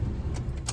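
A car pulls in and parks nearby, its low engine rumble steady and close throughout, with a couple of brief brighter rattles over the top.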